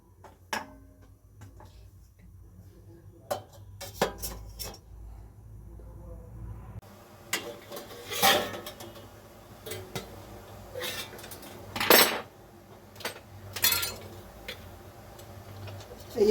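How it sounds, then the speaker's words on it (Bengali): A lid is set over a momo steamer pot, giving several sharp metallic clinks and taps scattered among quieter handling noises, close by with no speech. "এবার আমি এর উপর দিয়ে একটা ঢাকা দিয়ে দেবো"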